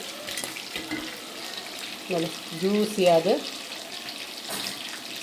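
Chicken chilli pieces fry in hot oil with a steady, close sizzle throughout, and a brief tonal, voice-like sound rises over it midway.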